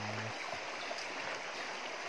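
A rocky river stream flowing over stones near a rural village, a steady broadband rush of water heard close and continuous throughout, with a brief low hum at the very start.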